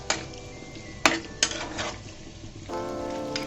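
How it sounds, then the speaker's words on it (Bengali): Small chewa fish frying in spiced oil while being stirred, giving a steady sizzle with a few sharp clinks of a utensil against the pan and a brighter, fuller crackle near the end. "এবার যে আমি মাছগুলো দিয়ে দিলাম, সুন্দর করে নেড়ে চেড়ে মশলার সাথে আমি মিশিয়ে দিচ্ছি।"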